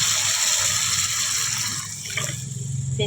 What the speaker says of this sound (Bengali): এবারে জল দিব অল্প,